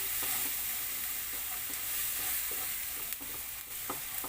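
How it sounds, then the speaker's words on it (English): Cumin powder sautéing in a pan for a stir-fry, a steady bright sizzle with a few soft scrapes of stirring, close and continuous without talk. "Let's put some cumin powder. And then we have to saute"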